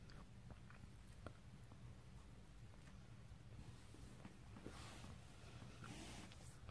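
Someone chewing cold bacon from a Lunchables breakfast bacon and cheese pack, with soft, close, irregular biting and mastication noises over a steady low background, and no talk.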